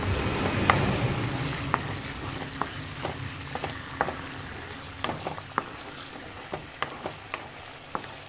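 Diced potatoes fry in a pan with a soft, continuous sizzle, while a spatula makes scattered clicks and taps against the pan as they are stirred, close up with no talking.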